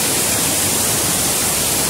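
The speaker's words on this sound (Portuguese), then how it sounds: "essa cachoeira aqui" A waterfall at Barra da Ponte near Diamantino, Brazil, roars as a loud, steady broadband rush of falling water with no voices.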